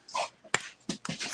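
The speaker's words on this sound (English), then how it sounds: "My dog is making so much noise." A pet dog makes noise indoors during an evening model-building session, giving short panting and whimpering bursts with a sharp snap-like click, close and fairly loud with no talk over it.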